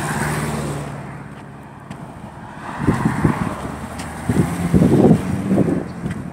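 Cars pass along a road outdoors in summer, a low rumbling swell of tyre and engine noise rising and falling over several seconds, with wind buffeting the microphone.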